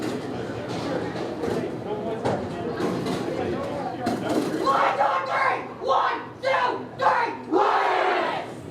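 Linn-Mar high school bowling team chanting a cheer in a bowling alley, a leader's rhythmic calls answered by loud group shouts that build into several punchy bursts, with crowd noise underneath.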